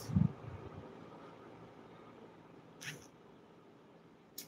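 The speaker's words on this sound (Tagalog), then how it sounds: "Pero meron akong ditong pusa" A single short meow right at the start, then quiet room noise with a couple of faint clicks.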